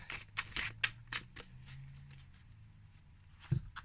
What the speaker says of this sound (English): So let me shuffle a couple times